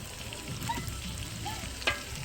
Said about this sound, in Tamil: நல்லா கோல்டன் கலர் வர வரைக்கும் வதக்கி ரெடி பண்ணிக்க